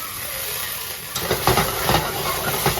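Brandy hits a hot pan and sizzles with a steady hiss, close and loud. Rhythmic stirring or scraping pulses through it in the second half.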